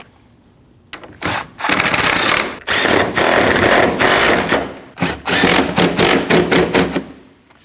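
Three 10mm bolts are tightened on the radiator support of a 2013-2019 Ford Escape, heard as loud, close bursts of rapid ratchet clicking with short pauses between them.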